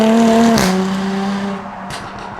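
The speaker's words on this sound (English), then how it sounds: "That exhaust sound is absolutely incredible." A Jaguar F-Type V6S exhaust sends out a loud, droning engine note that drops sharply in pitch after a brief burst, then settles and gradually fades.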